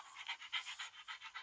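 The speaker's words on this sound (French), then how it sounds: "On retrouve avec deux nouveaux chiens" Rapid, breathy panting from a dog close by, quick rhythmic huffs repeating steadily with no voices.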